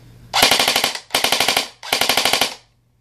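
A CQB M4 airsoft rifle on a 9.6 volt battery fires three full-auto bursts of about nine or ten rapid, even clicks each. The bursts are close and crisp, with short pauses between them.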